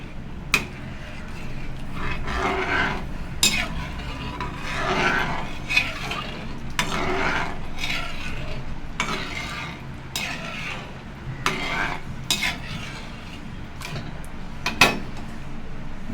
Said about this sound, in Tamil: பால் ஊற்றிட்டு நல்லா கட்டி இல்லாமல் மிக்ஸ் பண்ணிக்கலாம்